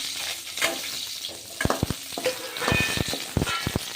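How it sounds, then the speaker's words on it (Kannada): Brinjal (eggplant) pieces sizzle and crackle as they fry in hot mustard oil, with a soft steady hiss and several sharp spatula clicks against the pan near the end. "ಇದ್ರೊಳಗೆ ನಾನು ಬದನೆಕಾಯಿ ಫ್ರೈ ಮಾಡ್ಕೊಂಡ್ಬಿಡ್ತೀನಿ ನೋಡ್ರಿ"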